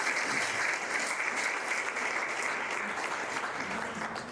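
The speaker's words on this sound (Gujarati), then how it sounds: "એકવાર તો જોરદાર તાળીઓથી પૂજ્ય શાસ્ત્રી સ્વામીને વધાવો" Devotees at a Swaminarayan Patotsav religious gathering giving Shastri Swami a sustained round of loud applause, an even, continuous roar of many clapping hands in a large hall that tapers slightly at the end.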